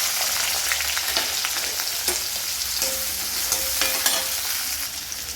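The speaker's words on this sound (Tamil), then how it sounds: "நறுக்கி வச்ச வெங்காயம் போட்டுக்கோங்க." Chopped onions hit hot oil already spiced with cinnamon, cloves and fennel seeds, sizzling loudly while a spoon stirs and scrapes the pan close by.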